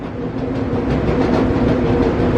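A loud, steady mechanical roar with rumbling and rattling machinery as a Sukup grain dryer's unload system starts up, continuous throughout and close by, no voices.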